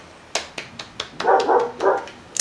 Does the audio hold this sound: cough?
no